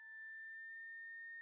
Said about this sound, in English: So each of these is a sine wave.